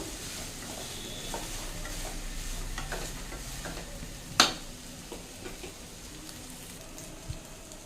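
Boiled salted basmati rice is stirred and tossed in a pan, giving soft, quiet scraping and rustling with a faint sizzle and one sharp clink of the utensil partway through.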